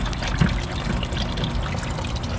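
Water drains in a steady trickle as the lower radiator hose of a Honda Civic is squeezed during a radiator flush, a continuous close splashing stream throughout.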